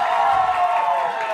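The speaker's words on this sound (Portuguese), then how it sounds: "Excelente, uma salva de palmas!" Audience at an education-week gathering welcoming a gymnast gives a brief, loud swell of cheering and clapping, a dense crowd sound held at one level.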